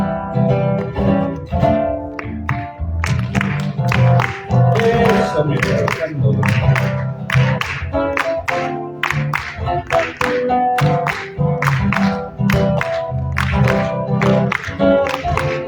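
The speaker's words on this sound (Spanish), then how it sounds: "Y las cuecas se acostumbran a veces a acompañar con palmas" Audience palmas clapping in rhythm to accompany a cueca at a book fair in Mendoza, sharp steady claps over guitar and music, with a voice speaking briefly.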